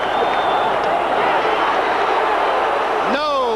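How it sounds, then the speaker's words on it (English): Baseball stadium crowd at a 1980 World Series game in Philadelphia, a loud, constant roar of spectators with a rising whistle-like sweep near the end. "Listen to the crowd."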